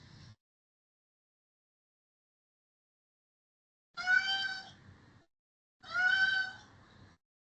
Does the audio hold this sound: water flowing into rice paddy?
no